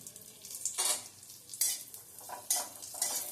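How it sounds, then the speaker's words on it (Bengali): Raisins are lightly fried in a pan while semolina halwa is being made. Soft sizzling runs throughout, broken by several scraping stirs and a few faint metal clinks of the spoon against the pan. "কিসমিসগুলো বেশি ভাজবে না একটু হালকা ভেজে নিতে হবে"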